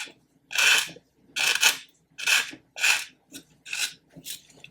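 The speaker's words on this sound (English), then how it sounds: "I can go from getting really biblically rough with something" A coarse Infini zebra sander scrapes across plastic in about seven firm back-and-forth rasping strokes, each a harsh gritty burst separated by short silences, close and loud.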